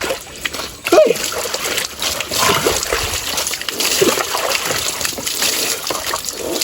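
Water splashes and trickles during bathing, with irregular close sloshes and drips continuing steadily, a sharper splash near the start and faint voices in the background.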